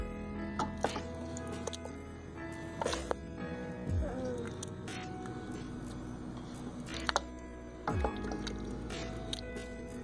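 Cooked apples are cranked through a food mill into sauce, giving soft, quiet squishing and wet mashing with occasional scraping knocks of the mill, close by.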